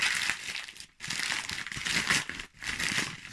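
A gift package is unwrapped by hand, producing loud, close crinkling and crumpling of wrapping paper in two short bursts broken by brief pauses.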